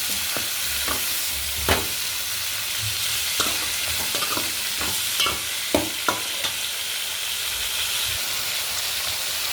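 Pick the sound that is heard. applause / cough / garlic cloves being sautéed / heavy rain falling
garlic cloves being sautéed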